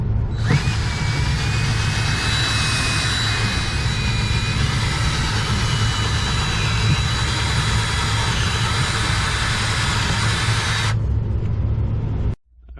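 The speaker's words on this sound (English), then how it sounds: "this is my long bit that I just drilled through from the other side" A long drill bit bores through the wall of a house to run a dryer vent, a loud steady motor whine with grinding drone held nearly constant for about eleven seconds before stopping abruptly.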